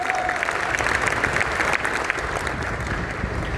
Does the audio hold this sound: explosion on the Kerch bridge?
no